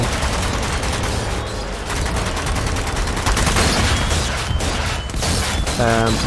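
Slowed-down weapon fire from Zombie Army 4: Dead War in horde mode, a dense rapid burst of heavy booming shots under a power-up effect, loud and continuous, with someone talking over it.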